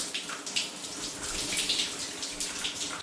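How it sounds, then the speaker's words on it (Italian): Hot shower water running at a trekking stop, a steady hissing spray with splashing bursts, close and continuous without pause or voices. "la doccia calda."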